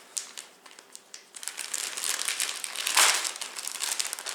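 Crinkly plastic wrapping around a fresh herb bouquet of rosemary and Italian flat-leaf parsley crackles and crumples up close, starting with a few sharp separate rustles, then building into a dense, loud stretch of continuous crinkling.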